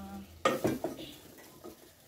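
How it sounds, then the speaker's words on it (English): Onions, tomatoes and chicken stirred together in a stew pot, a few scraping strokes of a spoon with a soft sizzle beneath, close and fairly quiet. "mix the onions, the tomatoes, and your meat together"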